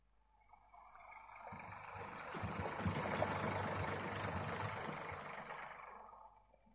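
Tractor engine in the background of a film scene, a low rumbling motor that swells up from quiet, holds steady for a few seconds and then fades away, fairly faint and distant with no talk.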